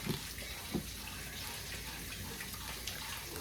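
Water from a tap or pot pours steadily over a pork shoulder in a cooking pot, a continuous faint splashing rush with a couple of brief louder spatters near the start.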